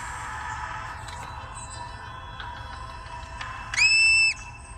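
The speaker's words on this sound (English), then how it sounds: "This piercing whistle sends an urgent message to the colony." A single sharp, high-pitched marmot alarm whistle rings out near the end over a steady background hiss, loud and brief.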